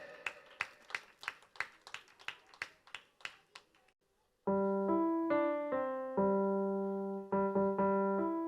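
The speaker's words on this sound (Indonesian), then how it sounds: "Tepuk tangan buat Dave." Rhythmic clapping at a children's Sunday school Christmas service, about a dozen sharp claps in a steady beat for four seconds, then silence before sustained keyboard or organ chords take over.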